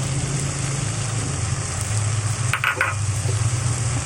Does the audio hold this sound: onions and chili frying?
yes